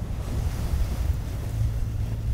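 Strong wind buffets the microphone over the steady wash of ocean waves at open sea aboard a boat, a loud, continuous roar with no voices.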